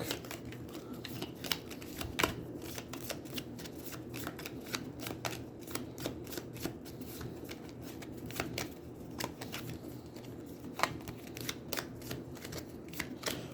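Deck of cards being riffled and shuffled during a tabletop game of Aeons End, a steady run of crisp papery flutters and snaps lasting over ten seconds, close up with no talking.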